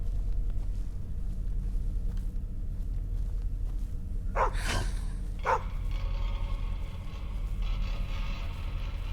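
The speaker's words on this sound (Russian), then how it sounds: "Где-то там гавкает." A dog barks somewhere far off at night in the woods, two faint, short barks about a second apart heard over a low steady background rumble.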